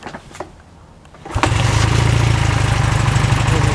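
A Honda CB400 motorcycle engine cranks and catches after a second of quiet, then settles into a loud, steady, slightly uneven idle with a faint misfire, and no one speaks.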